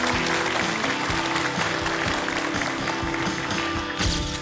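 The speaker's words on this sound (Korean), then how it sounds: "위로의 박수 부탁드립니다" Studio audience on the Korean quiz show Quiz Korea breaks into dense, sustained applause of consolation for an eliminated contestant, a steady roar of clapping filling the whole stretch without a break.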